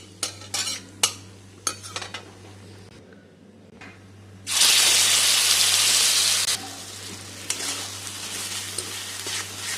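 Peanut paste mixture is stirred in a pan with black cumin and dried chili, giving several sharp scraping taps, then a loud burst of sizzling that settles into a steady softer hiss.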